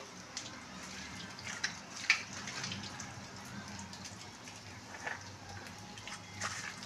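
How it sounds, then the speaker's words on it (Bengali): Water is poured into a batter mix for loti fish fritters (bora). It makes a soft, faint, continuous splashing and trickling with a few small drips, heard fairly close. "চলো এর মধ্যে একটু জল দিতে হবে গো।"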